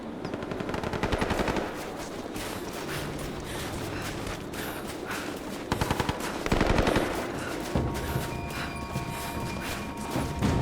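Sustained rapid automatic gunfire from a firefight in the video game Rise of the Tomb Raider, loud and dense for the whole stretch, with brief heavier bursts and crashes mixed in.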